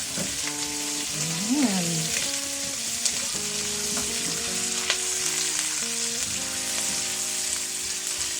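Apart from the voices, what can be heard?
garlic and onion frying in a pan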